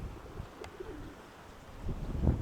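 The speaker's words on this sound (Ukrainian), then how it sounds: "Підкинув голубів." Soft pigeon coos near a breezy outdoor background, with a burst of wing flapping rising toward the end.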